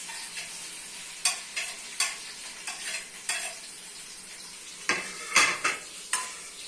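Onions softening in a pan, a steady near sizzle broken by repeated spoon scrapes and clinks against the metal as they are stirred, with no talking.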